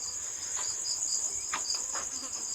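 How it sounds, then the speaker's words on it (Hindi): Small insects, flies and mosquitoes, swarm around a light at night, a steady high whining buzz with brief faint flutters passing near. "ये मच्छर से ये मक्खियाँ सी हैं लाइट पे आ रही हैं"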